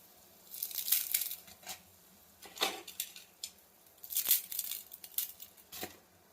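Maggi instant noodle packets are torn open and the noodles dropped into a pot of boiling water: several close, crinkly plastic rustles and tearing bursts separated by short pauses.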